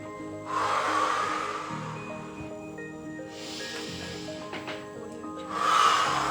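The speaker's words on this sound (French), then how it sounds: "Et on fait nos respirations" Slow, deep breaths are drawn in and pushed out during a breathing exercise: three long airy rushes spaced a few seconds apart over faint background music.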